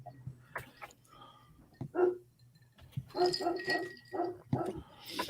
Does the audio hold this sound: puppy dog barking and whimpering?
yes